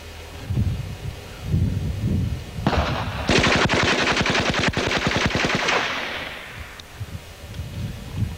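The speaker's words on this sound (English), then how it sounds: "This is a 25 round burst from each gun." Calico M950 and HK submachine guns each fire a 25-round burst outdoors, loud rapid automatic fire standing out from a quieter background, one sustained rattling volley after another with no talking.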